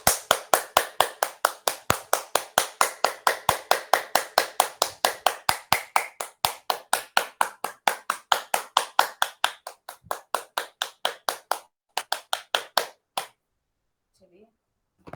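Loud, rhythmic hand clapping during a daily yoga session, one person clapping sharply and evenly about three to four times per second, close to the microphone, for roughly thirteen seconds before stopping abruptly, followed by a brief faint voice.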